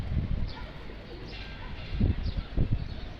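Domestic pigeons in a loft coo softly nearby, with a few low, throaty bursts coming in an uneven rhythm and no talking.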